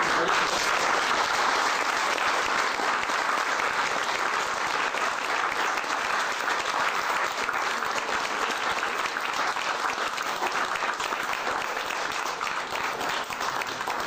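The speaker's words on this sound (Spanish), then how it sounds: "Y por eso, un aplauso." A large audience at a tribute event breaks into sustained, dense applause, a steady wash of many hands clapping at even loudness for the whole stretch with no voices over it.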